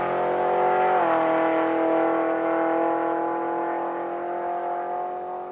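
Steady, loud engine roar from a drag race car at Saskatchewan International Raceway, holding a sustained note as it launches and pulls away down the strip, fading slightly toward the end.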